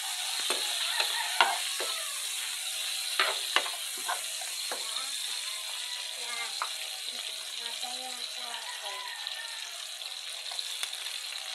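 Steady hiss and sizzle of garlic and ginger frying in oil in a pan, with scattered sharp crackles and a few soft stirring knocks, while a voice speaks quietly over it.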